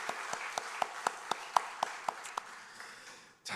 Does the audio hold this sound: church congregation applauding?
yes